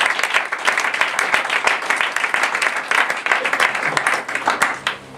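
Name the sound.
congregation applauding for the Lord in church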